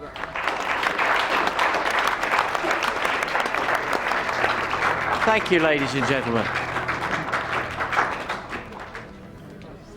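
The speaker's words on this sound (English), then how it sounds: "Give him a nice round of applause." Theatre audience applauds a performer, loud sustained clapping from a packed house that gradually thins and fades toward the end, while someone speaks briefly over it.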